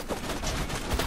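Gunfire in Borderlands 2, a headshot landing on an enemy: a dense, continuous barrage of shots and impacts with a heavy thump near the end, loud and close, with no talk.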